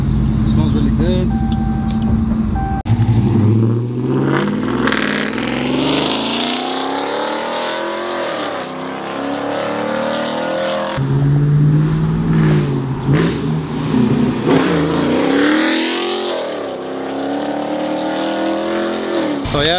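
A Ram R/T truck's engine, fitted with aftermarket headers, revs and accelerates in repeated loud pulls that climb and drop back, with a person speaking between and over the engine.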